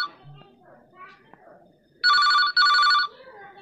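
A phone ringtone sounds in two loud electronic bursts, following quieter background chatter and faint voices.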